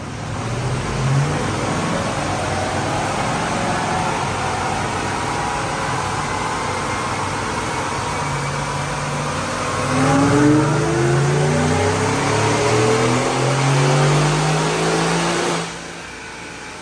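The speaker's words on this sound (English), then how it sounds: "Check out this dyno pull." A 2025 Ford F150 with the 5.0 Coyote V8 and Whipple Stage 1 supercharger on 93 octane, making a loud engine roar on a dyno as it climbs through the revs with rising whine, then cuts off near the end.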